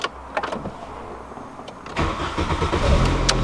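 An old car that has had coil pack and distributor trouble cranks and fires up, settling into a loud, rough idle that continues to the end.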